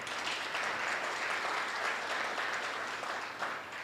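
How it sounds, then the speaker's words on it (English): Audience clapping for a team at a CFA Research Challenge event, a steady, dense wash of applause filling the room without a break, moderately loud throughout. "At least clap for yourselves."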